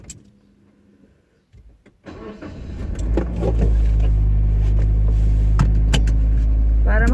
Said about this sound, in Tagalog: I-backward lang po natin ha. Yung sasakyan.